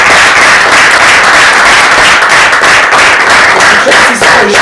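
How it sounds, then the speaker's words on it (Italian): Very loud, continuous audience applause fills an award ceremony hall in Castellammare, many hands clapping together in a dense, unbroken roar with no speech over it. "tanto applauso"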